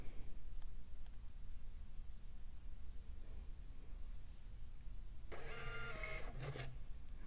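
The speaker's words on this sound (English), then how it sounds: "That sound you just heard was my printer printing its test page out." A Star Micronics TSP650II receipt printer whirs and chatters briefly near the end, a short burst of mechanical printing of a test page over a steady low hum.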